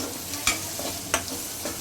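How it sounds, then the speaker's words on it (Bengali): Garlic, onion and dry chilli fry in mustard oil in a pan, giving a steady low sizzle broken by a few sharp scraping stirs of a spoon. "এটা ভাজার প্রস্তুতি নিচ্ছি। এখানে সরিষার তেল, রসুন আর পেঁয়াজ, শুকনা মরিচ।"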